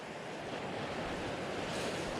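A salmon spate river at a good fishing height rushes past in a steady, broad wash of flowing water, continuous and moderately loud, with some wind noise mixed in.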